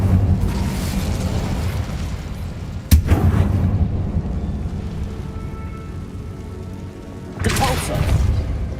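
A fire spell explodes in Hogwarts Legacy with one sharp, loud burst, followed by a roaring crackle over steady game ambience and a second rushing surge near the end.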